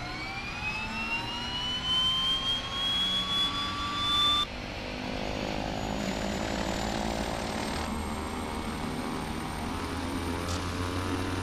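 A left aircraft engine starts up in Flight Simulator X, its whine climbing steadily in pitch for several seconds before settling into an even, continuous drone with no talk.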